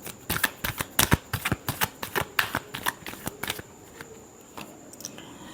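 Tarot cards being shuffled by hand give a rapid run of crisp, close slaps and riffles for about three and a half seconds, then trail off into near quiet with a few soft taps.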